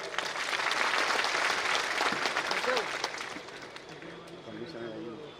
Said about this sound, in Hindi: उस ताई के लिए ताली जोरदार बजना चाहिए